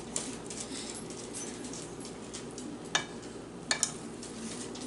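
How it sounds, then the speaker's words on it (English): Soft, steady sizzling of food frying in a pan, a continuous crackly hiss with a couple of sharper pops near the end. "I can hear it starting to sizzle already"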